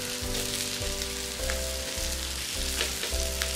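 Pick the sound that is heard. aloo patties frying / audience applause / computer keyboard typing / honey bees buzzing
aloo patties frying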